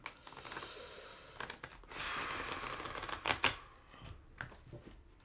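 A deck of tarot cards is shuffled up close, giving bursts of rapid riffling and flicking with a few sharp snaps in between, broken by short pauses.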